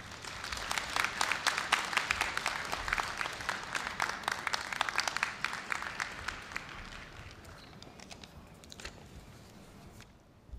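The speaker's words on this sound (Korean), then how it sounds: "여러분, 교우회 부회장님을 큰 박수로 맞아주시기 바랍니다." A large crowd at a Korea University degree ceremony applauds as an alumni association vice president is welcomed. The clapping is dense and steady, then thins toward the end and fades out.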